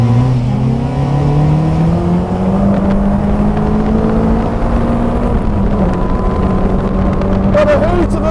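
A Caterham 310R sports car engine drones steadily while driving, with a rising and shifting exhaust note over strong road and wind rumble, close and continuous throughout.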